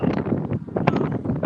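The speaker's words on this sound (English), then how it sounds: "It's windy out here." Wind buffeting an outdoor microphone, brief irregular low rumbling gusts in short bursts, close and moderately loud, with no voices.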